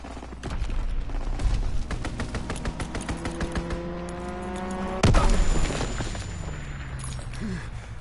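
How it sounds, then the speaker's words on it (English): An enemy aircraft's strafing run in a WW2 video game brings rapid machine-gun bursts and a rising engine whine, then a sharp loud impact around the midpoint followed by rumbling debris. "Enemy strafing run incoming. Get to cover."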